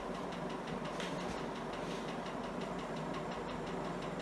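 A Lesslie Locke Spinner ceiling fan, new from the box, running during an airflow test, giving a steady whooshing hum with a faint rhythmic pulsing as the blades turn, continuous and moderately close, no voices.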